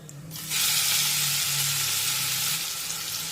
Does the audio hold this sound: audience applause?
no